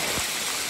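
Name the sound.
waterfall water flowing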